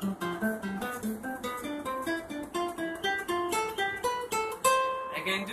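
A guitar picks a scale in diatonic thirds, moving up in evenly spaced paired notes with a steady rhythm, clean and fairly quiet, each note plucked distinctly.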